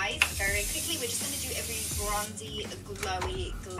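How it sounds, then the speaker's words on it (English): A soft, steady hiss of Morphe setting spray being misted onto a face, with music and voices playing underneath throughout. "I'm just going to apply my Morphe setting spray."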